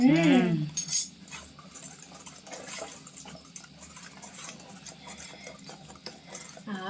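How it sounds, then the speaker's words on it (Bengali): Eggless chocolate cake batter with cocoa powder stirred in a bowl: soft, continuous wet mixing with light spoon clinks against the bowl, close and fairly quiet after a brief louder clatter at the start. "এটা ভালো করে মিশিয়ে নিচ্ছি।"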